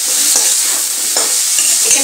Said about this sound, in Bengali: এবার কলা আলুটাকে একটু ভালো করে ভেজে নেব।